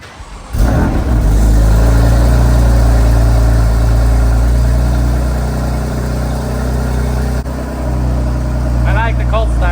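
A BMW F80 M3 with a modified exhaust fires up from cold, a sharp loud catch followed by a deep, rumbling high idle that holds steady and eases slightly before a voice breaks in near the end.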